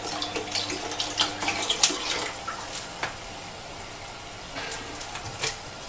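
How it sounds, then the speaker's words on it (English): Running tap water splashes steadily into a container, with brief louder gushes and a faint hum underneath. "While it's running, I am filling up the steam."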